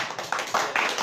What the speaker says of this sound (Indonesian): Beri tepuk tangan kepada para narasumber kita yang sangat luar biasa